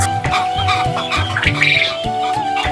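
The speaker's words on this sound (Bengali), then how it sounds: "আমি মূলত কোয়েল পাখি নিয়ে কাজ করতেছি দীর্ঘ তিন বছর যাবৎ" Quail on a quail farm call in short repeated clucking chirps at a brisk, even rhythm, close and fairly loud, over a steady tonal hum, with no speech.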